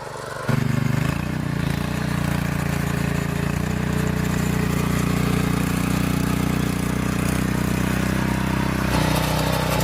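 A Sraja 4.8 HP power weeder tiller engine drones steadily and loudly under load while pulling a leveller through a field, with a constant mechanical hum and clatter throughout.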